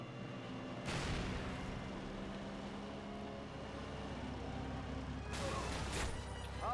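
Gunfire in the wartime shooter Call of Duty Classic, two sharp loud bursts a few seconds apart rising over a steady rumbling battlefield background.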